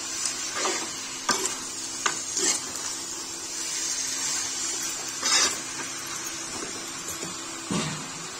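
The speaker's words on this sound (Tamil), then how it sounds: "அந்த கறியை ஏற்படுத்தி நல்லா கிண்டி விட்டுக்கலாம்" Rabbit meat for gravy fries and sizzles in a pan while a spoon stirs and scrapes it, giving a steady hiss broken by several distinct scraping strokes, close and alone.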